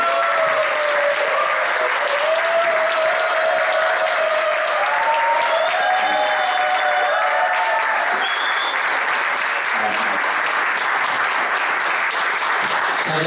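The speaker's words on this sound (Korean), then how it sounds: "큰 박수로 맞이해 주시기 바랍니다." A large audience at a business lecture applauds steadily for over ten seconds, dense and even, with a few voices faintly audible beneath the clapping.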